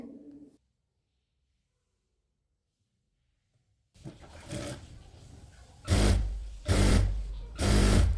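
A home sewing machine stitches fabric tie pieces for a baby frock, starting after a stretch of near silence with a low hum, then whirring loud in three short bursts.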